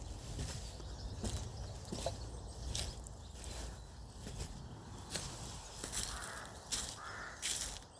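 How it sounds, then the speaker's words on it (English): Birds calling on a blue-sky evening in Ireland, with loud repeated crow-like caws from nearby and soft shuffling footsteps in the background. "just listening to the birds singing"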